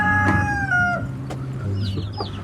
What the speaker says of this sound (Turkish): Bu bizim psikopat tavuk.